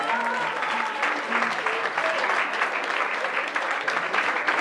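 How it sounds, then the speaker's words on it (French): A crowd at an evening Holy Spirit worship gathering applauds and cheers for a woman named Blanche, with dense sustained clapping and scattered voices and shouts throughout, loud and continuous. "On acclame Blanche."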